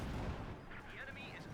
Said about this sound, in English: Machine gun, main gun just tearing into the anti-tank and crew down to just 2 men.